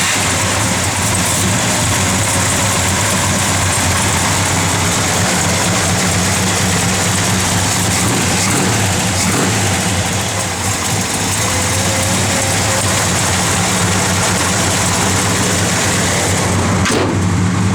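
A 1970 Chevrolet Chevelle SS V8 idles loud and close, a steady rumbling burble that holds without letup.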